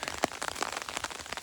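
Rain falls outdoors with close, rapid drop impacts spattering on nearby surfaces, forming a dense, uneven patter with no voices.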